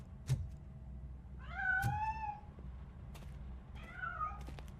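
Cat meowing in the video game RoboCop Rogue City, two drawn-out meows at moderate distance over low background hum, with a few sharp clicks between them.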